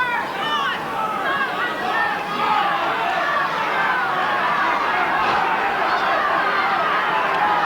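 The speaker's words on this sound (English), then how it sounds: "The Birr crowd getting behind their team." Crowd at the 2001 Leinster club senior hurling final between Castletown and Birr of Offaly, a steady broad roar of chatter and cheering with some whistles, continuous and moderately loud throughout.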